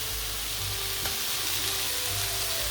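Prawns fry in a hot pan with a dense, loud, steady sizzle close up, broken by a faint tap and a low hum underneath.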